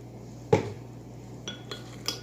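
Ingredients for Jamaican gizzada pastry are stirred in a mixing bowl: a sharp utensil knock on the bowl followed by a few lighter clinks and scrapes, close by, over a faint steady hum with no talking.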